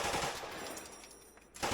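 Gunfire from a combat recording, a fast burst of machine-gun fire heard as a dense crackling rattle at a moderate distance, with no talk over it.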